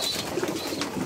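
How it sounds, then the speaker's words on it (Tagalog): A pigeon, one of a fancier's young birds kept in a loft, coos softly in a brief low murmur beneath steady background noise from the coop. "Itong ibon naman natin na si Black Opal"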